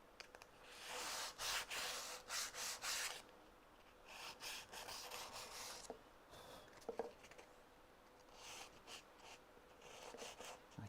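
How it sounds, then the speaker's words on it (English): Wood on a dovetailed wall cabinet is rubbed with sandpaper in short bursts of quiet rasping strokes separated by pauses, fairly close. "A bit of sandpaper."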